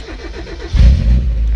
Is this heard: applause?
no